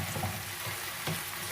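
Chicken frying in a pan gives a constant close sizzle with a low rumble under it, steady from start to finish, and nobody speaks.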